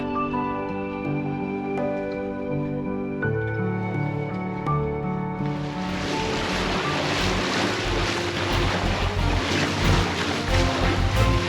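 Wind and water rush around a sailing boat underway on the French Riviera, a steady broadband roar of wind buffeting and hull wash that swells louder and hissier partway through, with no voices.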